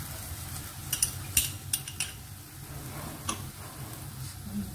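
Chicken being stirred in a pan with tikka masala, white pepper, Chinese salt, soy sauce and chili sauce: faint metal spoon clinks and taps against the pan over a low steady background hiss.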